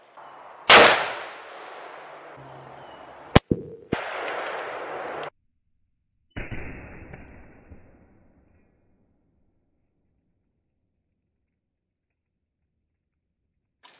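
A Remington 700 CP rifle fires outdoors at a pumpkin, a loud close crack opening the clip, with several further bursts of sound and a ringing decay that fades into near silence.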